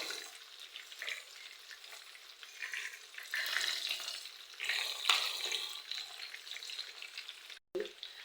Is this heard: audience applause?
no